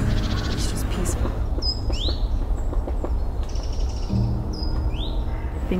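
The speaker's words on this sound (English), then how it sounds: "You can hear crickets and birds, and it's just peaceful." Birds chirp and call in short bursts over a steady outdoor background at a quiet retreat center, with a few sharp rising tweets standing out close by.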